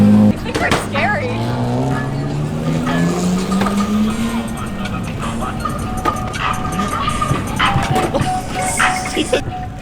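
A drift car's engine roars continuously while its tires squeal during handbrake slides, loud and close, with people talking over it throughout.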